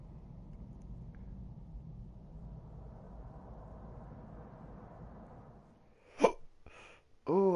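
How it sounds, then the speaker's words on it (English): A person hiccups sharply two or three times near the end, close and abrupt, after a quiet stretch of low rumbling background from a Batman Arkham Knight game session. "Oh, I got the hiccups."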